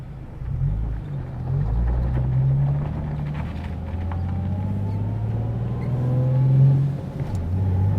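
A car's engine rumbles and revs as it pulls away in first gear with a six-puck clutch, a low steady drone rising and swelling through the run, heard close with no talk.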